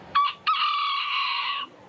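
A Key West rooster crows once, a short clipped note followed by a long, loud, sustained call, close and clear with no talk around it.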